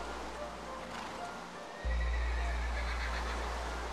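A Minecraft horse whinnies loudly over clip-clopping hooves, then a steady low electronic drone kicks in and continues beneath it.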